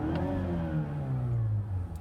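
A 2018 Mazda CX-9's 2.5-liter turbocharged engine fires up and settles into a quiet, smooth idle, a low steady hum with a slight descending tone, heard alone and fairly faint.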